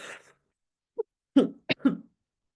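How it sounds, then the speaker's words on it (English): Several short, sharp coughs from one adult speaker, a lone burst followed by a tight cluster of three, close and fairly loud against otherwise quiet room air. "Sorry, another cough coming."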